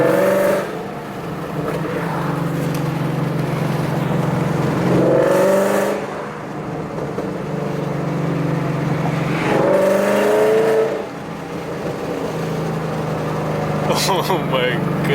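A 2012 Mustang GT 5.0 with longtube headers accelerates loudly close by, its deep engine note climbing in pitch through two or three pulls, with brief drops between them, while people talk excitedly over it.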